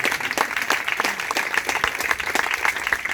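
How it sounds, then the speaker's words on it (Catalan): A small audience claps for the boss at a Catalan gathering, fairly close, distinct hand claps merging into lively applause that keeps a brisk, uneven rhythm throughout. "Un aplaudiment al jefe, sisplau"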